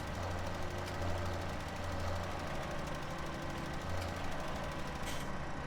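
Farming Simulator 17 tractor, a 6R pulling a Kuhn plow across a field, with a steady low engine drone and rumbling knock heard close and constant.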